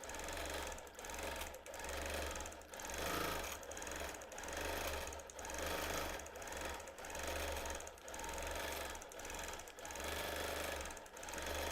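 Close and loud, a sewing machine quilting shapes into a batting-free quilt drones on in rapid stitching, surging and easing in a regular rhythm as the work is guided.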